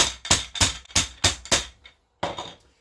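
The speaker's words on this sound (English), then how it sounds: "I'm gonna use this to flatten this chicken." Six hard, evenly spaced thuds of a meat hammer pounding chicken breast flat, loud and close, then a pause and one final blow.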